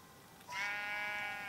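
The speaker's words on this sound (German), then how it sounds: "Schaf. Ich höre Schaf." A sheep in the video game Minecraft lets out a single clear, tremulous bleat that starts partway through and holds steadily to the end, standing alone over a quiet background.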